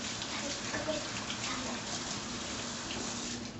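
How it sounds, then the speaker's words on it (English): Tap water running steadily over hands being washed at a kitchen sink while cooking, a constant close gush with faint splashing. "I'm gonna wash my hands"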